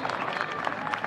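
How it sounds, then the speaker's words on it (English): Crowd at a Texas high school lacrosse championship game applauds an honoree, a brief burst of scattered clapping from the stands. "A big round of applause."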